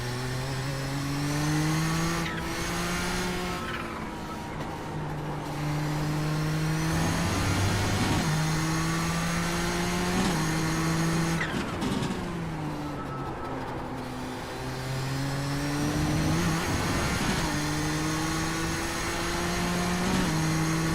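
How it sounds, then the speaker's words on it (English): A 1985 Nissan GTP race car engine roars in iRacing at Road America, loud and sustained, its pitch climbing through gears and dropping at shifts several times, with no voices. "Make sure you can hear me over the roar of the engine."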